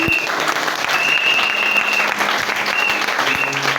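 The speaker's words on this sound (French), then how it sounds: "Est-ce que tu peux acclamer très fort pour Jésus?" A church congregation breaks into loud, sustained applause and cheering for Jesus, dense clapping filling the whole stretch with a few whoops riding on top.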